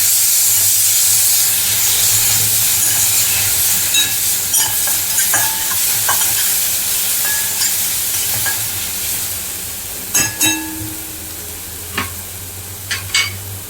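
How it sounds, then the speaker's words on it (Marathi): A spiced red masala mixture with coriander sizzles and hisses steadily in a hot pan while a spoon stirs it, with a few sharp clinks of utensil against the pan toward the end. "हे सगळं छानपैकी ढवळून घेऊया."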